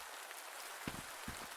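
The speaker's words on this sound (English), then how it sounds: "it looks like we're getting a mix of rain and snow" Mixed rain and snow falls in a video game, a steady soft hiss of precipitation with a couple of faint thuds near the end and no talk.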